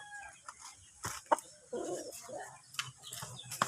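A freshly bathed pet chicken clucks and squawks in short, close bursts from a backyard flock, with other bird calls and faint voices nearby.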